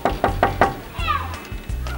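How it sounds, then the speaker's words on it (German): Four quick, sharp knocks on a door, close and evenly spaced, followed by a voice and light background chatter. "Kann man da einfach mal klopfen?"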